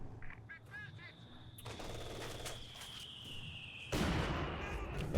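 MG42 machine gun fire in Company of Heroes 2, sharp rapid bursts among other battle noise, with a sustained whine and a louder blast of gunfire near the end.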